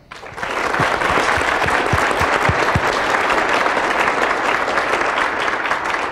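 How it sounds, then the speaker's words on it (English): A conference audience bursts into applause, a dense wash of clapping that starts abruptly and holds steady and loud to the end. "Let's give Jason a round of applause for that"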